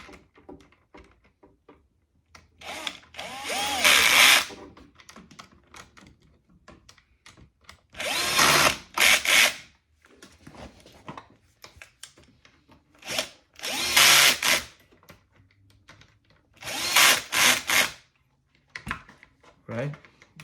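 A power drill tightens screws on a Rane One DJ controller during a channel fader replacement, in four separate loud whirring bursts of one to two seconds each, with quiet handling noise between them.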